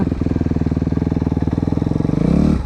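A Kawasaki KXF 250 motocross bike engine on an MX track, running steadily and close with a rapid pulsing beat, then revving higher toward the end.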